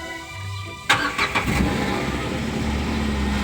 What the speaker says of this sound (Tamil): ஸோ நம்ம ஃபஸ்ட்டு இன்ஜினை ஸ்டார்ட் பண்ணிக்கலாம்